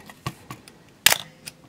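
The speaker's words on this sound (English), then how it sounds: "let's just fire the shutter while we're here" A Canon FTb 35mm film SLR with an FD 50mm f/1.4 lens fires its shutter in one crisp, loud mechanical clack, preceded by a few faint handling clicks, close up.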